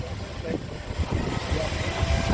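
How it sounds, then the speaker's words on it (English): A small showman's steam tractor at a steam rally chugs past with a low, rumbling engine and irregular beats, steady and fairly close, under a busy crowd with people talking. "Little Showman's tractor coming through"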